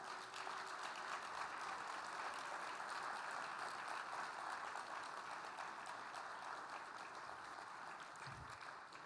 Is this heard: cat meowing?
no